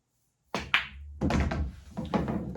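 A few sharp golf club strikes on a ball with a carbon fiber shaft, each a crisp thunk with a short bright ring, spaced roughly half a second to a second apart, close up.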